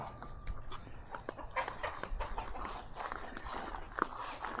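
Chickens at a rural spot in Laos cluck softly and intermittently amid faint rustling and footsteps, with no one speaking.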